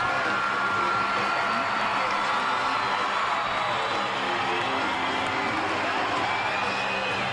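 An arena crowd at a wrestling show roars steadily as the tag team Rock and Roll Express, Ricky Morton and Robert Gibson, make their entrance, a dense sustained cheer with no breaks.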